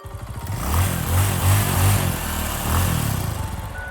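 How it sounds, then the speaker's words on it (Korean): A motorcycle engine rumbles at a steady mid-distance, its low drone swelling and easing a few times as it runs, with no voices. "멀리서 오토바이 소리가 들렸습니다"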